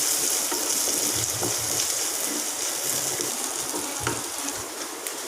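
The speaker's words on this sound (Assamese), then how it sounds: "এনেদৰে মই অলপ সময় কঁঠাল গুটিখিনি ভাজি ল'ম।" Jackfruit seeds fry in a little oil in a pan, giving a steady, close hiss and crackle that runs without a break and stays fairly loud throughout, with no voices.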